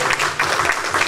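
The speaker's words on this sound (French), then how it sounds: "Je vous demande d'applaudir également" Audience applause at a film-industry gala evening in French, a brief, loud burst of dense clapping that fills the whole moment.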